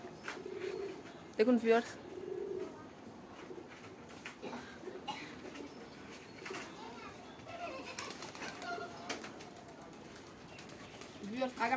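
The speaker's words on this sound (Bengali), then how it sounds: "দেখুন ভিউয়ার্স, জিরা গলাটা কি প্রচন্ড আকারে ডাকছে।" Domestic pigeons coo repeatedly, including a loud, insistent call from a jira-throated pigeon in a home loft, with low throaty notes recurring throughout while a person talks over them.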